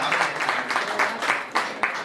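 Audience clapping at a Hindi kavi sammelan poetry recital, a dense broadband patter with swelling bursts, fairly loud and continuous, faint voices beneath.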